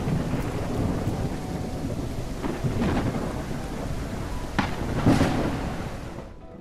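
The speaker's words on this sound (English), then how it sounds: "This storm looking pretty stormy" A thunderstorm with steady heavy rain in the medieval strategy game Noble Legacy, with a continuous rain hiss and a few distinct rumbling thunder cracks near the middle and end.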